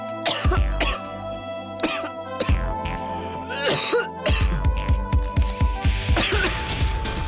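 Repeated harsh, hacking coughs come in fits, loud and close, with throat-clearing between bursts over a faint tonal background.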